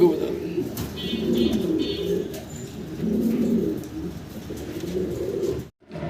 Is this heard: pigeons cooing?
yes